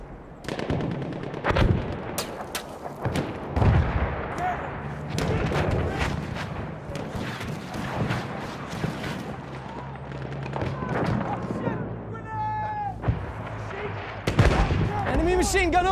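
Machine gun fire in the World War I shooter game Battlefield 1, with dense bursts of rapid shots and heavy thuds over a busy battlefield din, loud throughout, with occasional voices in the mix.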